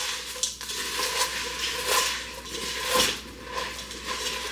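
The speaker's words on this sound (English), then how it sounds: "Gonna finish mixing this over here." Cornflake cookie mixture being stirred and scraped in a bowl, with a continuous soft crunching, rustling texture and rhythmic swells from repeated strokes, close and without talk.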